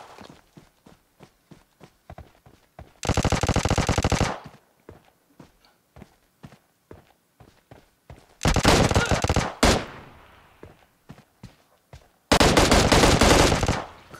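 Bursts of automatic gunfire in the mobile battle royale game PUBG Mobile: three loud sustained volleys separated by quieter single shots and footstep-like clicks.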